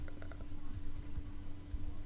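Fingers typing on a computer keyboard while entering Gmail account details on a Mac, a quiet, steady patter of light clicks alone through the whole stretch.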